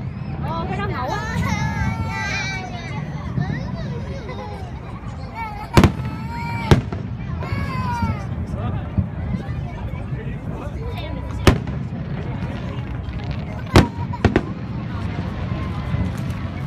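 A fireworks display fires continuously, with crackling and whistling bursts and several sharp, loud bangs, while people chat nearby throughout.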